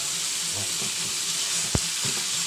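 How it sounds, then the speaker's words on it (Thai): Beef hind leg meat frying in roasted Thai curry paste for a spicy beef stew, a loud, steady, close sizzle with one sharp clank of a utensil against the pan partway through. "เมื่อเราคั่วพริกแกงหอมนะครับเราก็จะ ใส่เนื้อนะครับ ลงเป็นรวน เป็นเนื้อขาหลังนะครับ"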